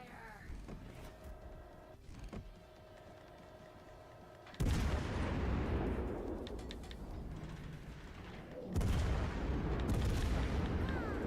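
Warship guns firing in World of Warships: Legends, with two loud, abrupt deep booms, each followed by a long rolling rumble, over quieter game sounds at the start.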